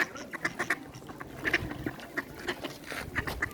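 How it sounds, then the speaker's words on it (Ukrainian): Ducks at a pond quack in repeated bursts, some close and some farther off, over a continuous outdoor background with no talking. "Тут повно качок."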